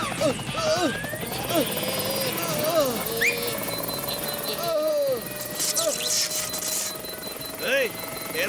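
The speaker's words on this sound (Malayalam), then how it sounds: "ഹെലികോപ്റ്റർ നിന്ന് പോയല്ലോ" A cartoon helicopter whirs and buzzes steadily beneath animated characters' lively talk, with scattered sound effects layered on top.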